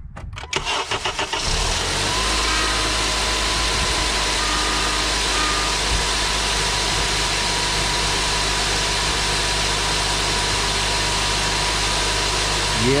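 A 2008-2012 Honda Accord 2.4L, fitted with a new battery and alternator, cranks briefly and catches, then settles into a loud, steady idle that hums on unbroken close by.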